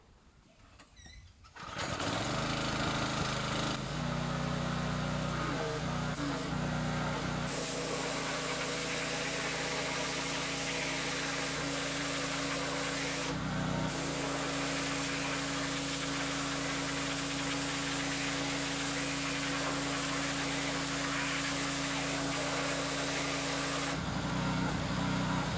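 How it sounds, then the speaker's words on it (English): A loud pressure washer motor starts and runs steadily with a constant hissing drone, briefly dipping twice before resuming, while cleaning Ford 302 E7TE cylinder heads. "Let's hit it with a pressure washer and see how it does."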